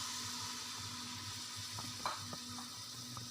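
Carrots and capsicum fry in hot oil in a heated pan, a faint, steady sizzle with a few soft clicks and pops scattered through it.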